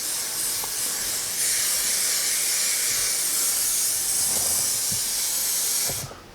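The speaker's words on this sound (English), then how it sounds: "So give it a nice spray, get it all the way up to the edges." A continuous loud aerosol hiss of spray adhesive being applied to a carpet-covered campervan wall panel board, steady for about six seconds before cutting off abruptly.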